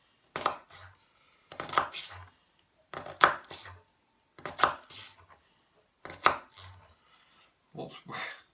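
A knife slicing onions thinly on a cutting board, five short bursts of quick chops separated by pauses, close and crisp in an otherwise quiet kitchen.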